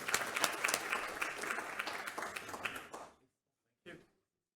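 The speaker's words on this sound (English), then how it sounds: "let's give a round of applause" Applause from a conference audience at a cancer research institute meeting, a dense close clapping for about three seconds that stops abruptly, followed by a brief isolated clap burst after a pause.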